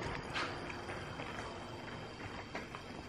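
Horse hooves clip-clopping on a farm, faint irregular footfalls under steady background noise, with no talking.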